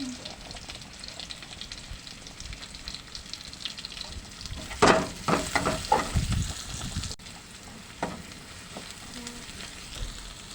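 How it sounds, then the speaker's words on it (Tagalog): Garlic and onion sauté in a pan with a soft, steady frying sizzle, broken around the middle by brief louder stirring scrapes and clinks, with faint background sounds and no talking. "Ngayon po mag gigisa po tayo ng bawang"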